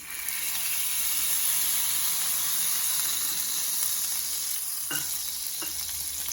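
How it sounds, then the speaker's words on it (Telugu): Butter sizzles on a hot grill pan on a stovetop stove, a steady, close, bright hiss that runs unbroken throughout, with a couple of brief soft knocks near the end and no talking. "స్టవ్ మీద ఈ విధంగా గ్రిల్ ప్యాన్ పెట్టుకున్నా, స్టవ్ ఆన్ చేసి పెట్టుకున్నా. ఇప్పుడు కొంచెం బటర్ వేసుకుందాం."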